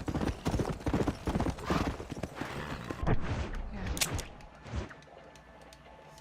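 Horse hooves clip-clop in the video game Red Dead Redemption, a brisk steady rhythm of close hoofbeats that thins out toward the end, with a brief louder knock midway.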